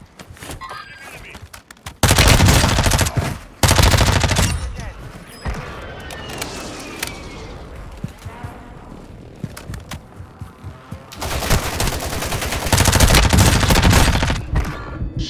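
Bursts of gunfire in a first-person shooter match, with loud volleys near 2 s, 3.5 s and 11–13.5 s and scattered shots between them, while players talk throughout.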